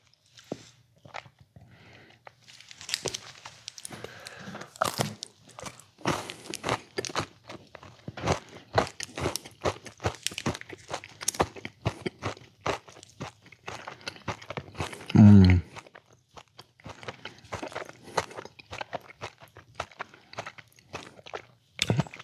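Crunchy white chocolate Halloween candy is chewed close to the mic, with dense irregular crunching and crackling bites over about twenty seconds and a brief louder thump midway.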